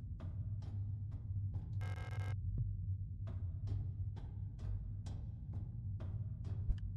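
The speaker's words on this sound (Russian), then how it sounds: "Пульсирующая плоть и зияет отверстие" Pulsating flesh in the horror video game Signalis, a deep wet throbbing pulse repeating steadily over a low droning hum, with a brief bright burst of hiss partway through and no voices.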